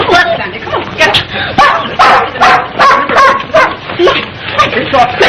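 A dog yips and whimpers in repeated short bursts close by, mixed with people talking, in a 1932 Little Orphan Annie film soundtrack.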